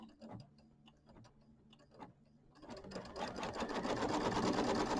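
An embroidery machine tacks fabric down onto a Kimberbell mini quilt, starting as sparse mechanical ticks and thumps and building after a few seconds into a steady, dense stitching whir that stays close and fairly quiet with no talk.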